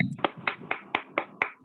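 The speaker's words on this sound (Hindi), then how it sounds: "इनकी सेकंड लाइन ऑफ स्पॉन्सरशिप को मैं यहाँ पे इनवाइट करूंगी तालियों के साथ, Mrs Archana Bhagor from Jaipur." Audience applause at a sponsorship presentation event, heard as seven sharp, evenly spaced claps in a steady rhythm, close and moderately loud with no talking.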